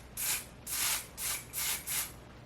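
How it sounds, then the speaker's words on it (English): Five short bursts of makeup setting spray, an oil-control product, misted onto a makeup sponge, each hiss lasting about a third of a second with brief gaps between, fairly close and with no talking. "You spray it on a sponge"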